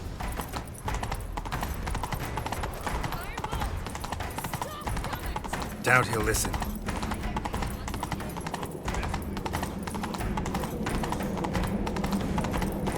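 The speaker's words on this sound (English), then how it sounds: "Grab a horse, we'll chase him down." Horse hooves pound in a steady galloping clip-clop from The Witcher 3, a fantasy video game, running continuously under game music and brief character dialogue.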